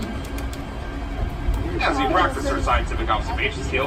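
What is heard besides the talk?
traffic on the Bronx River Parkway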